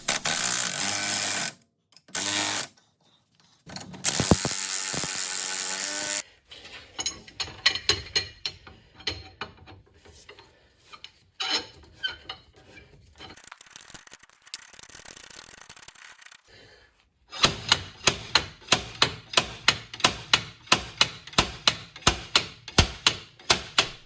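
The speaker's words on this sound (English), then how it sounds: "This 5-pound slide hammer does a good job." A 5-pound slide hammer strikes metal repeatedly on a Toyota front wheel hub, loud sharp clanks coming in bursts, then a fast steady run of impacts pulling the hub.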